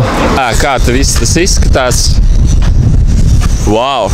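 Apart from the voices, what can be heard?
strong wind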